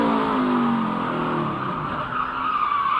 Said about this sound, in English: I hear the wheel hop there.